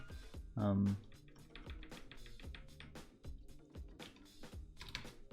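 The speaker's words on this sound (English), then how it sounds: "I'm doing a great job of typing today." Rapid clicking of a computer keyboard while coding in Unity, with irregular clusters of sharp key taps throughout and someone talking over the typing.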